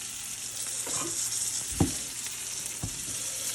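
Deer heart sizzling in hot bacon grease in a pan, a constant crackling fry with a few soft clunks from moving the pieces, no talking.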